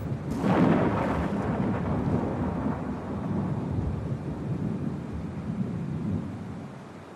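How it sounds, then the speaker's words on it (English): A long, loud roll of thunder from a lightning storm over the Grand Canyon region opens with a sharp crack, then rumbles deeply and slowly fades over several seconds. "lightning storms can occur at any time, almost without warning"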